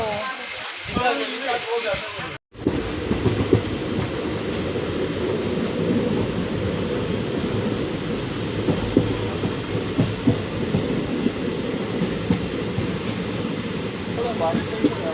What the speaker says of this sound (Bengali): ট্রেনের আশায় বসে আছি, ট্রেন আর আসছে না। ট্রেন কি আর আসবে না? আসছে আসছে।